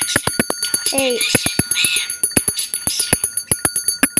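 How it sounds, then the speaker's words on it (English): A small hand bell rung repeatedly indoors, quick sharp metallic dings in an uneven rapid rhythm, close and loud, with a brief spoken exclamation and a short vocal squeal partway through. "if I ring this bell"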